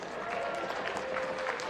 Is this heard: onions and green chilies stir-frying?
no